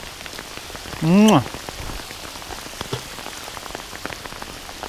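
Heavy rain pouring during a nasty storm on a bass-fishing trip, a steady dense hiss of drops striking water and surfaces throughout, with a brief vocal sound near the start.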